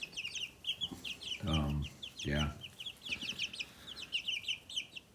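Young chickens cluck and peep in a brooder, a steady scatter of high chirps running throughout, with two short low thumps in the middle and a brief spoken word.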